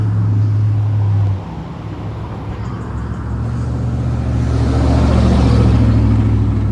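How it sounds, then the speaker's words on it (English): Cars rumble past on a high bridge, a loud low drone of tyres and engines close by that dips then swells again as vehicles cross. "when the cars pass, the bridge shakes"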